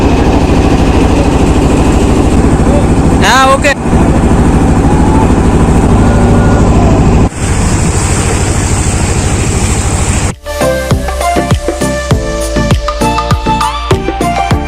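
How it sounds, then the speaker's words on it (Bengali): Motor of a hired trawler boat crossing the Nikli haor toward the char, a steady loud droning engine running throughout; the tone shifts partway as wind and water noise change, with a brief spoken reply near the end. "নেকলির যে বেরিবাদ আছে এই বেরিবাদ থেকে ট্রলার ভাড়া করে এখন আমরা চরের দিকে যাচ্ছি"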